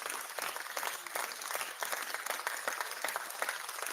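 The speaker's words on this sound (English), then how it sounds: "Who was that with the applause?" Steady applause comes through a remote call, a continuous patter of many hands, fairly faint and thin, as if picked up through a distant or compressed line.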